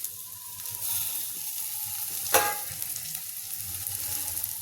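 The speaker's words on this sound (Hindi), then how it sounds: "अब इसमें डालेंगे देखिए गाजर और टमाटर," Carrots and tomatoes frying for bhindi manchurian in a pan, a steady close sizzle with a brief louder crackle burst midway as the vegetables hit the hot oil.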